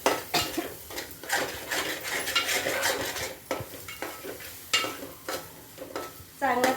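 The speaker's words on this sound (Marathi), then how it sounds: "अगदी तेल सुटेपर्यंत वाटण तळायचं आहे" Masala paste for chicken curry fries in oil, sizzling softly while a spoon stirs and scrapes the pan in repeated clattering strokes, close and fairly quiet, with no talk.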